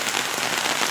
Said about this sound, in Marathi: आता तर जास्त पाऊस आलाय